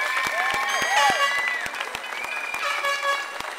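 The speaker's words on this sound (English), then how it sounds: "Let's give yourselves a round of applause." Rally crowd at a public option rally in Albuquerque, New Mexico applauding outdoors, steady dense clapping with scattered whistles or horn-like toots and cheering mixed in throughout.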